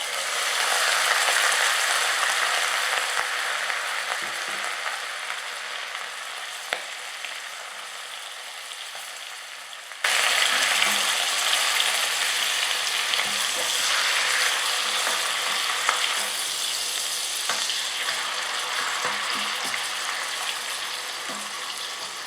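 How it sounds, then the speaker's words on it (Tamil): Chicken sautéing in a pan for Chettinad biryani, made from an Aachi Chettinad basmati biryani kit, gives a steady broadband sizzle throughout, with a brief jump in loudness midway and occasional soft stirring clinks. "இப்போ அடுத்தது சிக்கன் ஆட் பண்ணுறேன்"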